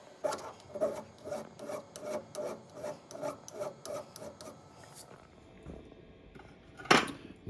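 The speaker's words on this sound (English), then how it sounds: "File a little nib off of here." A hand file rasps a small nib off a small engine oiler part in about a dozen steady, evenly spaced strokes, followed by a pause and a single sharp clack.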